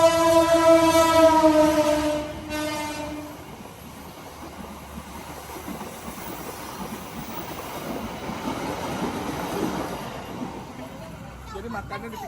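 A train horn blares for a few seconds, then the rumbling clatter of rail cars passing beside a roadside meatball stall in Malang continues, with voices faintly mixed in.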